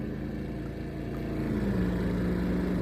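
A truck engine drones at a distance on a foggy day, a steady low hum that swells slightly as it passes, with a faint rising tone partway through.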